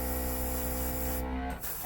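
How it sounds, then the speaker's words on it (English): An airbrush sprays pink acrylic nail paint in a steady, close, continuous hiss with a faint hum that cuts off abruptly near the end. "So let's spray our pink."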